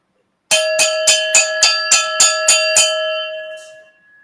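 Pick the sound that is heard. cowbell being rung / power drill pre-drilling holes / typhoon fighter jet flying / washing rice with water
cowbell being rung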